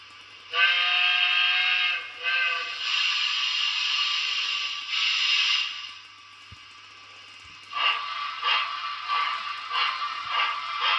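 Trix model steam locomotive 141 R shunting, a loud whistle sounding twice at first, then a long steady whistle tone, followed by rhythmic chuffing bursts close by.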